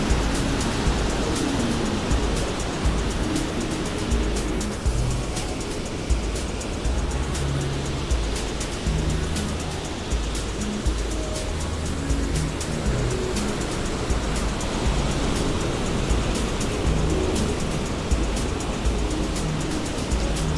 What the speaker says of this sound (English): Beautiful the way the water hits that embankment.